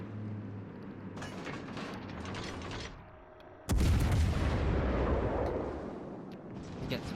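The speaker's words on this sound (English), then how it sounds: "Get some shots in on this Fletcher." Ship guns fire at an enemy Fletcher destroyer in a naval battle game, with a heavy, booming salvo that bursts in suddenly and then rumbles on loudly after a lull in the lower engine and sea noise.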